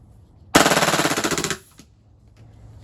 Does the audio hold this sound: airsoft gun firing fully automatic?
yes